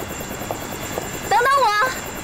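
An aircraft engine drones as a plane prepares to take off in a wartime action film, a steady mid-level propeller hum running underneath, while a voice speaks briefly over it.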